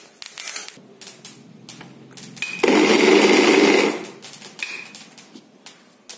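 Mixer grinder pulverising roasted sesame seeds for til-jaggery barfi: one loud, dense whirring burst lasting just over a second, with quieter kitchen clatter and taps before and after.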